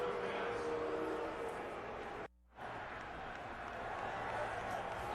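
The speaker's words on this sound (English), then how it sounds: "here comes a little crowd reaction" A stadium crowd at a 2008 Titans vs Bears NFL football game gives a modest, broad roar after a pass is batted down, with a brief dropout partway through before the murmur resumes.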